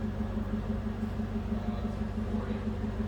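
A 2006 Cadillac XLR-V engine runs at a steady idle, a low, even hum with a faint rhythmic pulse, no talking over it.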